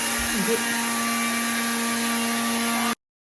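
A mixer grinder grinding roasted coriander seeds whirs loudly and steadily with a constant whine, then cuts off abruptly, leaving silence.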